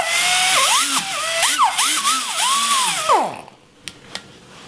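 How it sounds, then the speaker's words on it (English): An angle die grinder fitted with an abrasive nibbler pad whines in a high, shifting tone, repeatedly bogging down and revving back up, then spins down and stops, leaving a few faint clicks. "What it is though is an abrasive pad, and you put it on your angle die grinder."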